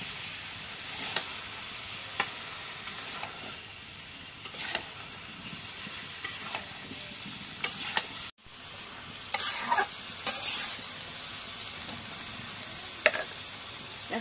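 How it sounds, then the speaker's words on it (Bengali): Bottle gourd being stirred into sizzling fried spices, the spoon scraping the pan in repeated strokes over a steady frying hiss, with a brief break partway through. "এখন একটু নাড়া দিয়ে দিই"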